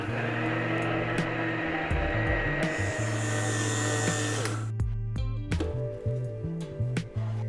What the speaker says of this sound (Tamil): அதை இப்போ நம்ம மிக்சியில் போட்டு பவுடராக்கி எடுக்க போகிறோம்.